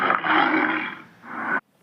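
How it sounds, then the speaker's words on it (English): A tiger roars once, loud and close, a long rough growl that dips briefly before a second surge and an abrupt stop. "It's tiger, strong, orange and stripy. Do you know how it makes sound?"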